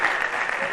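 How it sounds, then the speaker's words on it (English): Audience applause at a conference for the Federal Polytechnic delegation, a dense burst of steady clapping from the crowd that runs through the whole brief moment. "A round of applause for them."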